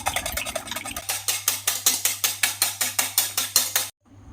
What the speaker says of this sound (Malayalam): ഇനി ഈ മുട്ടയിലേക്ക് ഒരു നുള്ളുപ്പും അര ടീസ്പൂൺ മഞ്ഞൾപ്പൊടിയും കൂടെ ഇട്ട് നല്ലതുപോലെ ഒന്ന് മിക്സ് ചെയ്യണം